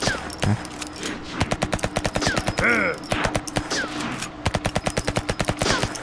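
Rapid bursts of video game gunfire in Until We Die crackle almost without pause, loud and close, with a short whooshing sweep in the middle.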